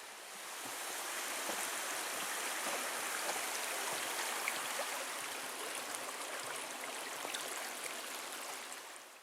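A steady, broad rush of a stream flowing beside a forest trail near Lake Superior at Pictured Rocks, Michigan, constant and moderately distant with no voices.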